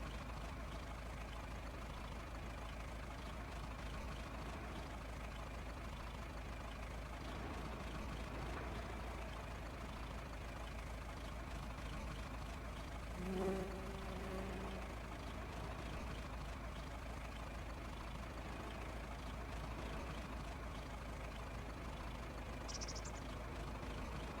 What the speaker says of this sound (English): Hoping it sounds a little bit bigger than this one. This is a smaller tractor.